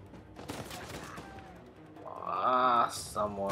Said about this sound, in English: someone is shooting me there